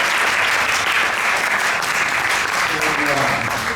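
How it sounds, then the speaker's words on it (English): An audience at a Sunday love feast lecture at ISKCON Brampton claps in steady, full applause that fills the room and continues throughout. "So a big round of applause for His name"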